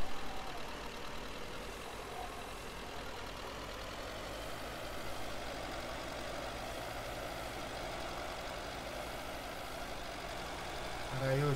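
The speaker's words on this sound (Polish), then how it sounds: "Mam nadzieję, że te ciągniki nie będą mnie zagłuszać, ani też nie będą za cicho." Tractor engines in Farming Simulator 13 run at a steady idle-like drone throughout, a continuous mid and low rumble at even loudness with someone talking over it.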